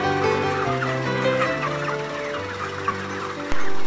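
Broiler chickens on a farm make dense overlapping clucks and gobbling-like calls that carry at close range and stay loud throughout, and a sharp knock lands near the end.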